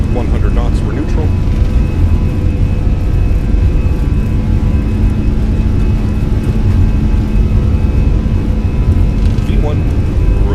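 A Fenix A320 in Microsoft Flight Simulator rolls down the runway for takeoff, its jet engines giving a loud, continuous low roar with a steady hum that stays level the whole time.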